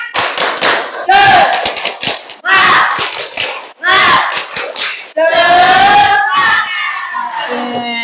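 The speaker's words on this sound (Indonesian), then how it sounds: "Tepuk semangat" A classroom of students performs a rhythmic spirit clap, loud close-up bursts of patterned clapping mixed with children's chanting voices in several energetic phrases.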